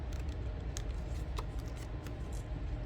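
Scissors fussy cut a paper scrapbook layout, with soft, close snips and paper rustles over a steady background noise.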